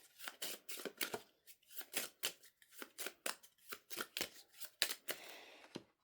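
Playing cards being handled and cut for a card reading. A steady run of quick, close, soft riffling and slapping sounds repeats about twice a second, with no talk.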